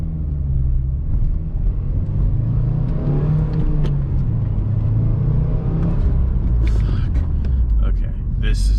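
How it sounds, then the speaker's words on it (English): Subaru WRX accelerating hard with its turbo spooling, a loud rising engine drone with whistle and whir, under a voice talking. "The turbo spool's addicting."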